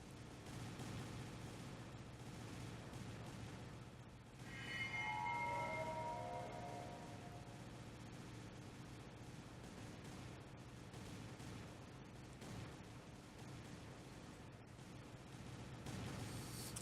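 Dynamite explosions in the video game Total Miner, a long low rumbling roar of blasts with crackling debris, one louder surge partway through, heard faintly and at some distance.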